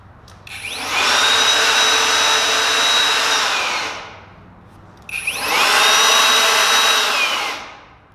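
A Flex car blower for drying a vehicle runs in two bursts. Each is a loud, steady rushing whine lasting about three seconds that spins up and then winds down, with a brief pause between them.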